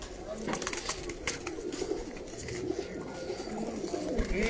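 Pigeons on a rooftop coo faintly in the background under continuous nearby chatter and outdoor noise.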